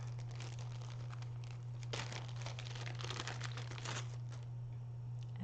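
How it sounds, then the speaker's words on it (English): Super-sticky tear and tape for card making crinkles and rustles as it is pulled and handled, with bursts of crackling over a steady low electrical hum, close to the microphone. "So let's go ahead and get our tear and tape out."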